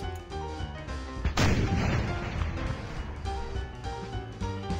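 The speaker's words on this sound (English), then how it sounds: "Can I fire this cannon at him?" A cannon in a Roblox circus game fires once with a sharp, loud boom that decays into a rumbling wash over ongoing game music.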